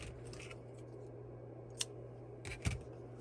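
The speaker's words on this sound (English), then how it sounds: "then we're going to cut our yarn tail" Scissors snip a knitted yarn tail, with two or three sharp close cuts near the end following quiet handling, no talking.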